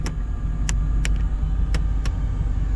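A GMC Vandura van with about 95,000 miles idles with its rear air conditioning running, a steady low rumble and fan hum heard from inside, broken by a few soft clicks.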